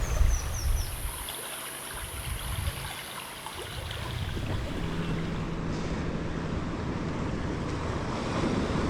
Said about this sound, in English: I'm just alone with the sound of the water flowing and the noises of the jungle.